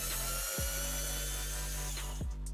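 A Team Corally Torq Master cordless driver whirs continuously up close while backing out larger screws, its motor tone dipping briefly under load at a couple of points.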